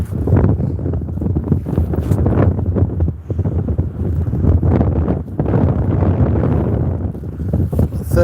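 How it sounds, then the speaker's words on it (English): Strong wind buffets the microphone on a wet, rainy seaside promenade beside cliffs, a loud, continuous roar with gusty surges and brief lulls. "it is wet, windy and miserable"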